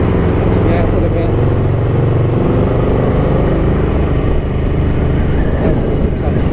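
A Ducati 900SS bevel-drive motorcycle engine, running on a test carburetor jet, revs loud and close with a dense, continuous roar that swells slightly and holds steady throughout.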